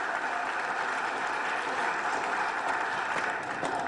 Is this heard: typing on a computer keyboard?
no